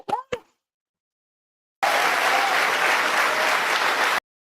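On an early-afternoon political talk show, a short burst of crowd applause switches on abruptly, holds at an even, fairly loud level for a couple of seconds, then cuts off sharply, preceded by two quick isolated thumps.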